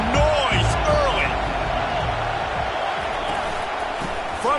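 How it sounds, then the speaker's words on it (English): A football stadium crowd roars early in a game, a broad sustained wash of cheering and noise heard under a commentator's talk, with faint whistles or shouts standing out. "This crowd bringing the energy and noise early."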